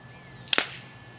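A Wingsland S6 drone's small launcher fires a projectile with a sharp double snap lasting a fraction of a second, over a faint steady motor whine.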